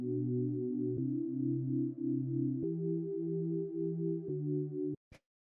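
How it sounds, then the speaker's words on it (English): Soft organ-like synth chords held in steady sustained blocks, changing every second or so, alone and fairly quiet, ending with a brief click. "the next sound we have here is this little like organ kind of sound"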